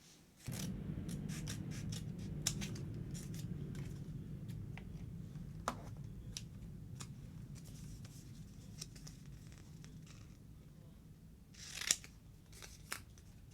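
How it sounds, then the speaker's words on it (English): Repeated crisp snips of scissors cutting through stiff translucent sticker paper, close and quiet, with soft rustling between cuts and a louder crinkle near the end. "since this is the translucent paper, it is much tougher, which is why you have to use scissors"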